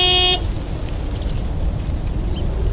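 A big white wobbly truck in the video game Lake sounds its horn once in a short loud blast, followed by a quiet background hum.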